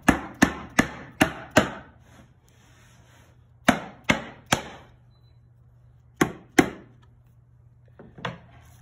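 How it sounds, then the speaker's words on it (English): Sharp wooden knocks from a mallet tapping a Festool 500 connector into wood, struck in quick bursts of five, three, then two blows with quiet pauses between, close and loud. "You could use a hammer, mallet."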